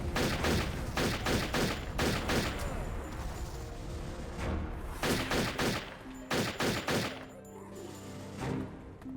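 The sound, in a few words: gunfire shooting snipers in the video game Turok 3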